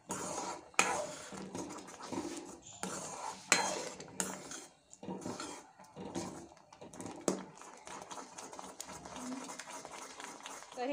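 Sheera being stirred in a pan over a low flame, a spoon scraping and clinking against the metal in irregular bursts with brief pauses, close and fairly quiet.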